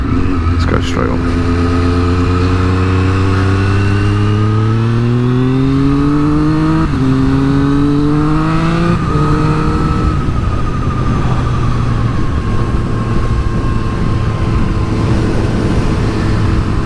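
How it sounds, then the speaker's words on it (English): A motorcycle with an Akrapovic aftermarket exhaust revs up through rising, throaty tones, drops back, then settles into a steady drone; the exhaust note is loud and close. "exhaust notes are a personal choice, but personally I just think this sounds fantastic"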